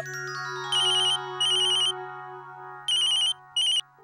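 Electronic telephone ringtone chirping in four bursts over a steady sustained tone, loud and close, with no voices.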